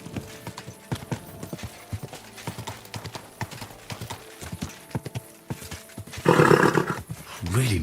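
Steady clip-clop of horse hooves in the medieval game Kingdom Come: Deliverance II, a regular trotting rhythm up close with a voice speaking over it, then a louder rushing burst near the end.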